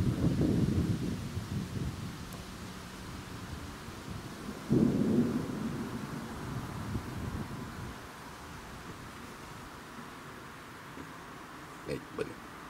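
Thunder rumbling during a summer thunderstorm at a country dacha, with low rolling bursts near the start and again around the fifth second before fading into a quieter background of wind and rain, with people talking.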